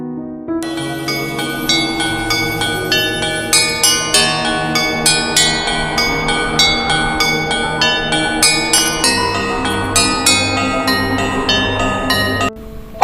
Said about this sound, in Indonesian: Lonceng membunyikan musik yang memukau.